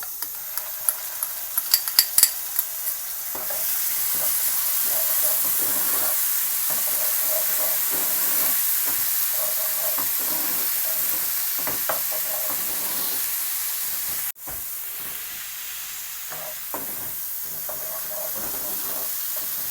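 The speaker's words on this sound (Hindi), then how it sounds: "अब हम इसमें लहसुन अदरक का पेस्ट डाल देंगे" Onions fried light brown in a pan for chana dal, then garlic-ginger paste added and stirred: a steady loud sizzle with scraping stirring clicks, a brief dip mid-way, no talk.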